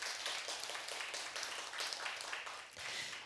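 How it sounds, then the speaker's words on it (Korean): An audience claps for three semiconductor analysts at the close of a Korean investment talk session, a steady, moderately distant round of applause that holds throughout and fades slightly at the end. "먼저 오늘 고생해주신 세 분의 애널리스트 분들께 큰 박수 부탁드리겠습니다"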